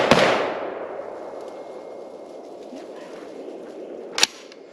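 A single sharp rifle report from an LMT L129A1 AR10-pattern rifle at a range, loud and close with a ringing decay, followed a few seconds later by a brief metallic clack.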